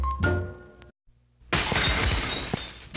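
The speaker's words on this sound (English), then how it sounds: "Break a glass, call Andy's Glass." A pane of glass smashes loudly as a sound effect in a local glass-repair radio ad, a crisp crash and spray of tinkling shards following a short, sharp ring, with no one speaking over it.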